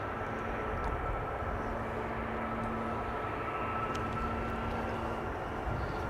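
An EasyJet Airbus A320neo arriving from London Gatwick and landing on runway 27 at Amsterdam Schiphol, a steady distant jet engine roar with a low rumble throughout, no talking.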